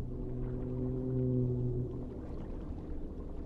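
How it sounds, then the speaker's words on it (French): A whale call in a video game: a low, sustained moaning tone with layered harmonics that swells and then fades out over a few seconds, heard alone against a dim rumbling background. "J'ai entendu une espèce de baleine."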